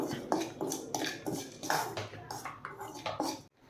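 Chicken fry masala with chilli powder is stirred in a metal pan, giving a quick, rhythmic run of close spoon scrapes and clinks, about a dozen strokes, before stopping abruptly near the end.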